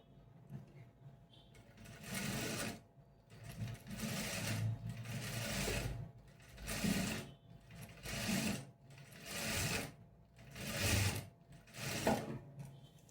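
Sewing machine stitching a dart on a blouse, running in about five short bursts of rapid mechanical whirring and clatter separated by brief pauses, fairly close and alone.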